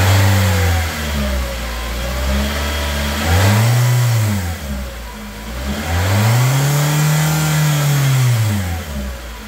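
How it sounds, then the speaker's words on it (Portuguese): A Toyota Yaris engine fitted with a sports air filter idles and then revs twice, each rev rising and falling smoothly with a throaty intake note, loud and close, with no talking. "acelerando aqui com o filtro de ar esportivo"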